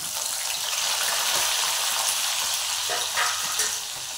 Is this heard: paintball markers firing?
no